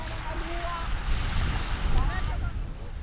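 Sea waves wash onto a beach in Madagascar where women fish with a net, a soft rolling surf swelling and easing under wind noise, with faint voices and bird-like chirps in the background.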